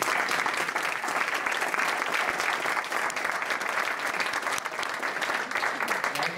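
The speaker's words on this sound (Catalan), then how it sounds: "Un fort aplaudiment també per ella." Audience applause at a Convergència i Unió list presentation in Sant Vicenç de Castellet, a dense, sustained burst of many hands clapping that stays loud and even throughout.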